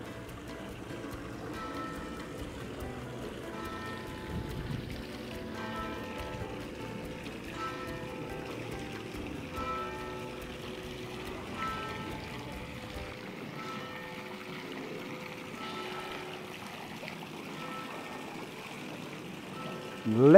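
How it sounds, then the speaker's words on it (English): Pool pump-room machinery in a town house in Canillas de Aceituno, Andalusia, hums steadily with running water for most of the stretch before the low rumble drops away near the end. "This is the engine room for the pool"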